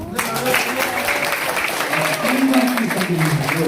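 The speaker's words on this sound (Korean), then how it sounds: "우리 김북일 청년위원장 박수 한번 해주시죠." Audience applause for a youth committee chair at a party election committee disbanding ceremony in a conference room, dense continuous clapping throughout with some voices mixed in.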